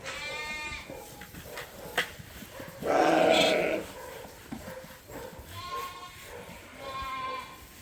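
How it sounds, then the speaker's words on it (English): Young lambs bleat in a creep area on a sheep farm, with a few drawn-out calls near the start and a pair of later bleats. A brief louder burst of rustling noise interrupts the middle. "All the lambs in the creep area, and this is the young ones."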